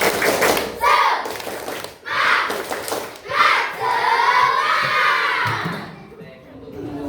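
A group shouts the Indonesian tepuk semangat clapping chant in loud bursts of hand claps and raised voices, like a cheering crowd, repeating several times before fading.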